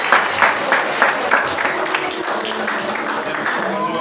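A congregation at a Haitian wedding in a church in Brazil breaks into rhythmic clapping that settles into steady applause, with talk underneath.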